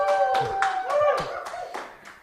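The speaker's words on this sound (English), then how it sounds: "Crowd goes wild." A studio audience at a comedy sketch show's election-night special bursts into applause, sharp claps in an uneven burst with a little laughter mixed in, close and lively, fading toward the end.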